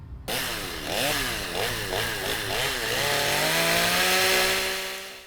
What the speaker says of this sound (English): Chainsaws were revving as visitors at the Portland Street Party watched ice shavings fly.